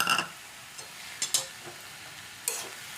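A spiced vegetable chop mixture stirred in a pan for homemade crispy vegetable chops: a few sharp, close spoon scrapes and knocks spaced irregularly over a soft, low background.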